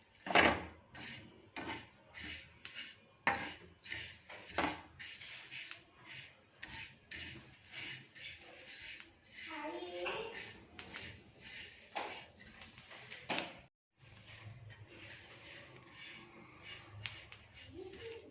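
Flax seeds, coconut, fennel and sesame dry-roasting in a pan, a soft rasping scrape of a spatula stirring repeatedly in an irregular rhythm, with occasional sharper clinks of utensil on metal, fairly quiet and close.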